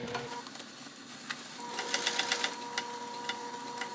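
A sewing machine stitches bag pieces together, a quick run of rhythmic mechanical clatter with soft ticking over a low motor hum that grows slightly louder midway, with no talking.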